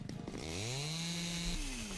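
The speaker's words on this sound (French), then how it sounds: "Ok, tronçonneuse encore." Chainsaw in the House Builder video game revving up with a rising whine, then holding a steady, loud buzzing drone while cutting wood, alone without talk.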